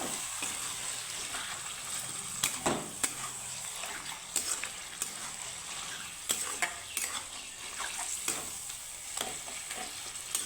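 Taro greens stir-fried in a pan with salt and turmeric: a steady soft sizzle runs throughout, broken by occasional sharper scrapes and clinks of a spoon stirring against the pan, close and fairly quiet.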